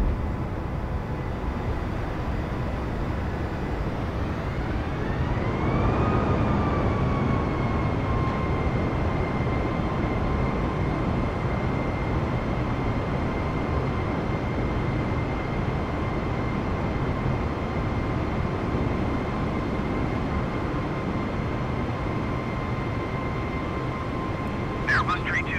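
An Airbus A320 in Microsoft Flight Simulator 2020 departing Tokyo: a loud, constant broadband engine roar with a steady whine that rises in pitch then levels off and holds for the rest of the stretch.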